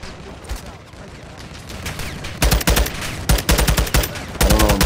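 Automatic gunfire in the video game Modern Warfare II, loud bursts of rapid shots that grow denser midway and keep going in stuttering volleys over a constant background rumble.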